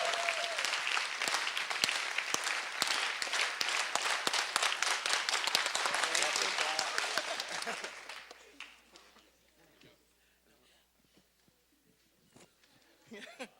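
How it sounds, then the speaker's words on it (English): Audience applause at a Trojans team awards event after the Most Improved award is announced: loud, dense clapping for about eight seconds, then fading to quiet murmurs and a few scattered claps. "So that was a good clap."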